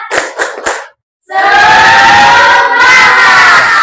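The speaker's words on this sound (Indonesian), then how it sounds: "Tepuk semangat! Semangat! Semangat!" A class gives a cheer chant: three sharp rhythmic claps, a brief pause, then a loud sustained group shout of voices rising together and holding, close and energetic.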